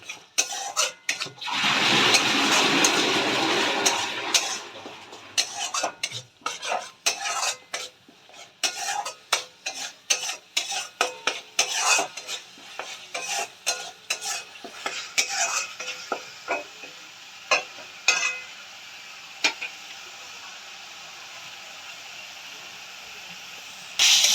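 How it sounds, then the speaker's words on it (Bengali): Ginger, garlic and green chili paste fries in a pan. A loud burst of sizzle at the start fades under a long run of quick, sharp spoon scrapes and clinks against the metal, close by. "আদা রসুন কাঁচা লঙ্কা বাটাটা এক চামচ দিয়ে দেবো এবার এটাকে আমরা ভালো করে কষিয়ে নেব"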